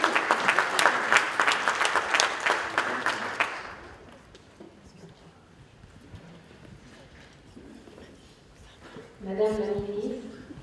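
Audience applause greets Amandine Chinyama at a Congolese cultural round table in Paris, a dense burst of clapping for about three and a half seconds that then fades into quiet murmur before a voice speaks near the end.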